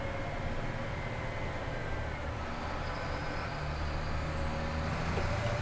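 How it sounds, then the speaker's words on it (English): A 2009 BAE M1085A1P2 armored truck's engine drones with a deep, rough rumble as it downshifts, with a throbbing exhaust brake, continuous and loud with no voices. "You can hear it gear down and kick the exhaust brake on."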